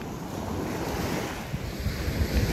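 Ocean surf and wind on the beach at Playa de Oro, Puerto Vallarta, a steady broad wash of waves with gusty wind buffeting the microphone, building slightly toward the end, no voices.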